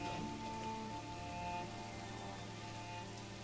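Rain falls in the medieval city-building video game Manor Lords, a soft steady patter of drops over faint tonal ambient hum, quiet and unbroken.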